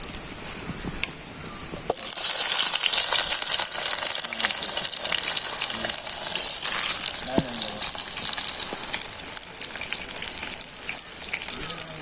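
Curry leaves and onion go into hot oil in a pan, and after a quieter start a loud, steady, close sizzle bursts up and holds throughout.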